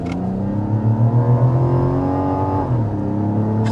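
A Mazda CX-90's inline-six engine accelerating hard in sport mode, a loud, rising drone with climbing harmonics that dips briefly as the gear changes, then pulls again, heard close from inside the big three-row SUV.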